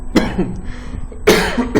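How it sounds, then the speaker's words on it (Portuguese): Two sharp, close coughs from a lecturer recording a law class, about a second apart, each a brief harsh burst in an otherwise quiet room. "Depois eu corto, depois eu consigo tirar só a tosse."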